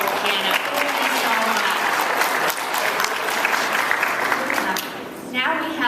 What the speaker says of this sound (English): let's give a round of applause to Mick Hyden, who has been playing beautiful piano